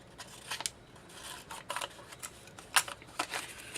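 Scissors cutting through envelope paper for a recycled flower craft, a series of close, crisp snips in irregular bursts, with no talking.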